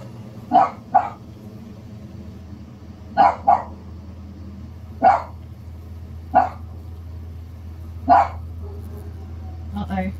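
A dog in a video game barks repeatedly at a cat, with short single and doubled barks spaced a second or two apart, fairly close and clear over a constant low hum.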